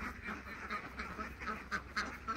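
Ducks quacking in a group at a henhouse where eggs are collected, a run of short nasal calls repeating steadily and fairly close, with no talk over them.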